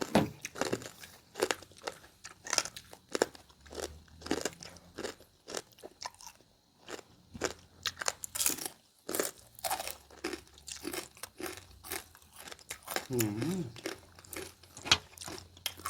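Someone eating crispy squid salad close to the mic, with a dense run of loud crunchy bites and chewing, steady and rapid, with little or no talk.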